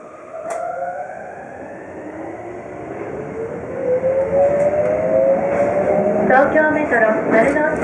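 A Tokyo Metro Marunouchi Line subway train, a 02 series set running from Shinjuku toward Ginza, rumbles steadily with a rising motor whine and rail noise that grow louder toward the end, heard from inside the car.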